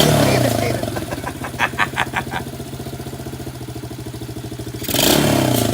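A rescued quad ATV engine salvaged from a trash pile idles with a steady, close, chugging putter, with brief revving bursts at the start and end and a rattly clatter in between.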